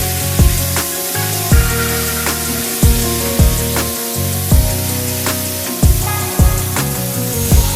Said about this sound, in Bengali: এবার এই আলু ভাজার তেলেই আগে থেকে কেটে রাখা লাউগুলিকে দিয়ে দিতে হবে।